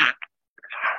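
A single sharp sneeze, close and abrupt, with a quick intake of breath before it and a breathy trailing burst after.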